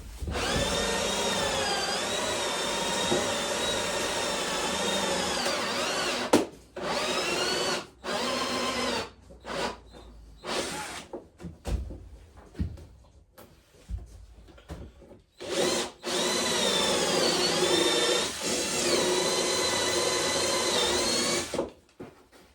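A power drill whirs loudly in repeated long bursts, stopping and starting several times with short quiet gaps between runs.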